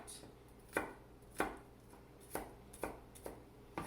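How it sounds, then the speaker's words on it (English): Kitchen knife mincing peeled garlic on a cutting board, giving a series of six or seven crisp, close chops at an uneven, unhurried pace with no talk. "Once I get all of that garlic together, just gonna go back through, run my knife through it again to get nice, small, fine pieces."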